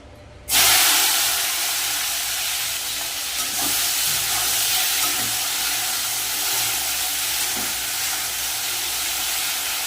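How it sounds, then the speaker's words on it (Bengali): Sliced eggplant hits hot oil with a sudden loud sizzle that settles into a steady, hissing fry, cooked for a Bengali panta bhat meal. "কেটে রাখা বেগুন ওই তেলের মধ্যে ভেজে নেব"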